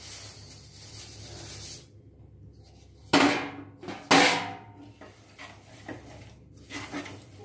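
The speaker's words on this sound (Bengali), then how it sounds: "তারপরে তিলটাকে আমি ঢেলে দেব এর মধ্যে।" Sesame seeds are poured into hot jaggery syrup, producing two sharp hissing, rattling bursts close by after a quiet start, followed by softer sizzling. No one speaks.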